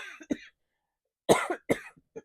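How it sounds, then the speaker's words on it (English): A few sharp coughs in quick bursts, close and fairly loud, with short silences between them. "excuse me, I'm going to cough."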